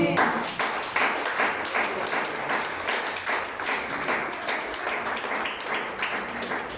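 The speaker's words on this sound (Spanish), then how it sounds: "Da una ofrenda de palmas al Señor." Church congregation clapping in a Spanish-language worship service, a loud continuous wash of many hands with a steady rhythmic pulse running throughout, no talking over it.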